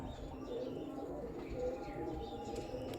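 Ferozpuri pigeons coo softly in their loft, low murmuring calls repeating over a constant faint background hum.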